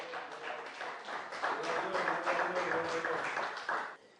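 A church congregation applauds during a sermon, a dense, steady patter of many hands clapping together for about four seconds before it thins out at the end.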